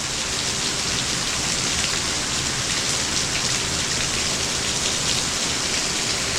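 Heavy rain from a hurricane storm pours down in a dense, unbroken hiss, loud and steady from start to finish with no voices.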